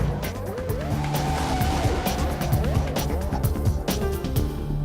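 A Formula 1 car driven down Broadway, its engine a steady loud high-pitched drone with rising and falling pitch sweeps as it revs, close and continuous throughout.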